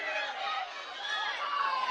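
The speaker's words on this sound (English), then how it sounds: "a lot of cheering behind us" A crowd cheers loudly and continuously behind a contestant at a ninja obstacle competition world championship, a steady wash of voices and shouts.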